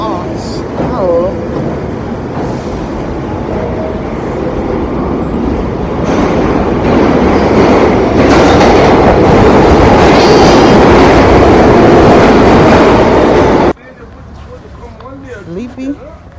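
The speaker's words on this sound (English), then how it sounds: "See how long this F train gonna come." A New York F subway train rumbles and clatters loudly through the station for over ten seconds, its roar building before cutting off abruptly, with people talking nearby.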